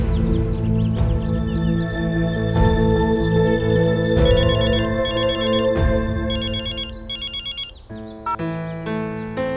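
A melodic phone ringtone from a Hindi TV drama plays loudly in repeating bursts of bright, bell-like tones, ending in a few shorter chimes, with no one speaking.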